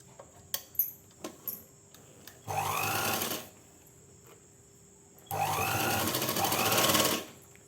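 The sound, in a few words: sewing machine stitching a salwar pant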